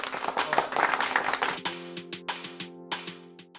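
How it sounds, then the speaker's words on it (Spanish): A small group claps hands as applause at the end of a pelvic floor exercise session, first a dense burst of claps that thins into a handful of separate, evenly spaced claps over a steady sustained tone. "Vamos a darnos un aplauso."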